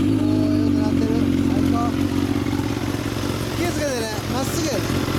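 A 2015 Suzuki GSX-S1000 with a full titanium LCI GP exhaust idles loudly and steadily nearby with a deep throbbing exhaust, while voices talk over it.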